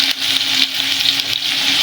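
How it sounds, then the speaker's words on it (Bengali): Potato pieces coated with salt and turmeric fry in a pan for a Bengali mutton kosha, giving a loud, steady close-up sizzle broken by a few stirring scrapes, with no speech. "ভালোভাবে লাল লাল করে ভেজে নিচ্ছে মা।"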